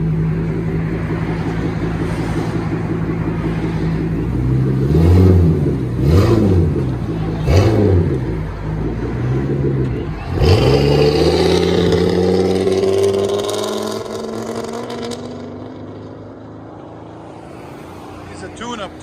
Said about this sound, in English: Ram 2500 V10. Muffler delete and 5-inch tip.